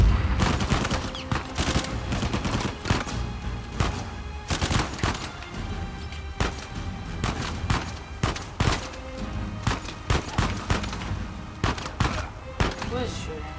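Gunfire in the video game Uncharted 4: dense, repeated bursts of shots and impacts throughout, with a voice speaking over the action.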